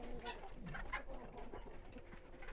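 Easter Egger chickens in a winter coop, with soft clucks and coo-like murmurs repeating steadily at close range over a constant low background hum.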